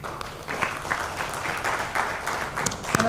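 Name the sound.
applause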